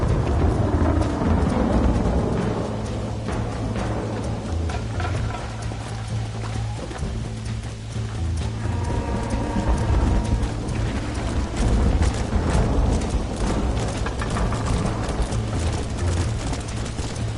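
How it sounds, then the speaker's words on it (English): A thunderstorm with heavy rain in Red Dead Redemption: steady, loud rain noise with low rumbling thunder rolling throughout, and faint hoof clatter mixed in. "Storm's getting worse."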